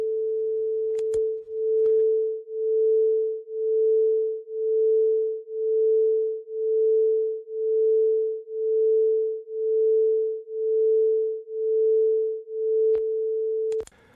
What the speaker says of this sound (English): the frequency of the pulsing that we hear is 1 pulse per second